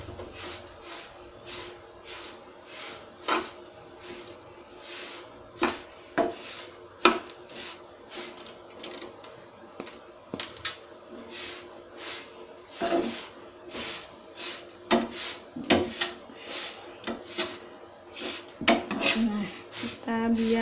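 Repeated scraping and clinking of a utensil against a pan while rice and kencur jamu ingredients are stirred continuously over heat, irregular strokes close by, with occasional quiet background sounds.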